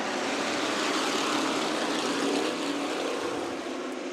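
A field of Spec Racer race cars roars away at the green flag start of a night sprint race at Kern Raceway, a loud, sustained engine drone that holds steady and eases slightly toward the end, with no voices.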